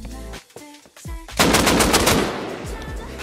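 An AK rifle in the game Rust opens with a few separated shots, then breaks into a loud, sustained burst of rapid fire that rings out and trails off.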